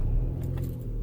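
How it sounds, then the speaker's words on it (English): A car engine starts and settles into a low, steady rumble, heard quietly from inside the vehicle with a faint jingle of keys on top. "when you apply power, turn the engine on"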